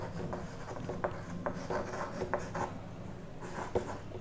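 Chalk or marker writing on a board during a physics lesson, scratchy rubbing strokes and sharp taps in irregular bursts, close and fairly steady, no speech.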